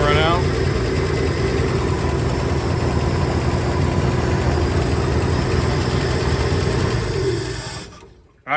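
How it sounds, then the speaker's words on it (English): A patina Ford F-100 engine idles on its own after a carburetor install, a loud, steady, rumbling idle that fills the clip before dying away abruptly near the end. "now that we got the thing running, idling on its own"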